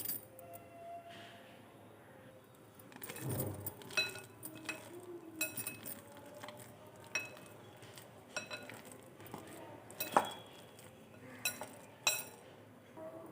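Black-eyed pea vada batter being mixed by hand in a bowl: faint, scattered clinks and soft scrapes against the bowl, irregular and close, with quiet background between the strokes.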